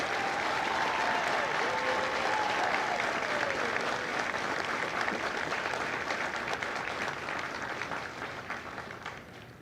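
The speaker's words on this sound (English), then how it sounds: "please join me in a round of applause for the company staff of Company L" Sustained applause from a large audience honoring the company staff at a Marine recruit graduation ceremony at MCRD San Diego, dense and steady throughout, tapering slightly toward the end, with a brief voice faintly audible early on.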